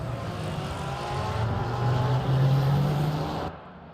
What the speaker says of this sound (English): We've got a hypercar coming down the home straight